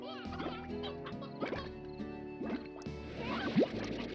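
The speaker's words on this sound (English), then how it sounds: "Did it just poop out a hen?" A hen clucks in the Slime Rancher video game amid squishy, dripping game effects, with several short bursts and a rising squeak near the end.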